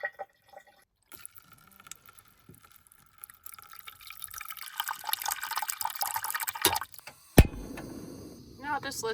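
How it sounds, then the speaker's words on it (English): Water runs from a tap into a container in a small car-camping setup, with a rising gush of filling after some scattered clinks and drips. A voice speaks near the end. "then I'm going to rinse them quickly and then fill them up with water"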